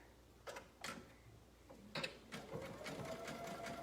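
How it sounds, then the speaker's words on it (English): A sewing machine runs a zigzag stitch along a pant leg inseam at about a 3/8 inch seam allowance, its quiet mechanical whirring coming in short bursts that settle into a steadier run near the end. "I'm using my zigzag and about a 3/8 inch seam allowance and just sewing up one leg and then down the other"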